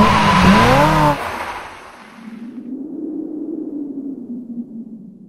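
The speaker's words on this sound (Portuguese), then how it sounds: "Roda a vinheta!" A short intro jingle for a Brazilian car show, opening with bright, loud sweeping electronic tones for about a second, then fading into a low, steady whooshing hum that trails off.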